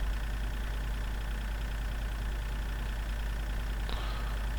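A tractor engine from the Farming Simulator 2013 video game drones at a steady, even pitch throughout, a constant low hum with a faint click near the end and no talk.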